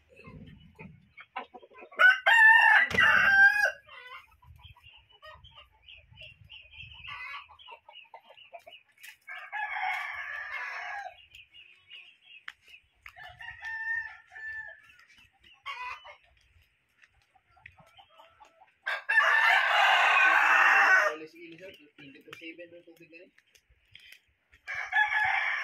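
Bantam roosters crow in several loud, strained bursts, with soft clucking from bantam hens filling the gaps between the calls.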